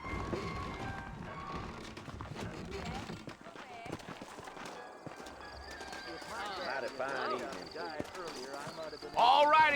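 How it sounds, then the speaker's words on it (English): Saddled horses trotting in the western video game Red Dead Redemption, hooves clip-clopping steadily with an occasional whinny, mixed under game dialogue and music throughout. "I got the horses saddled up and ready out front."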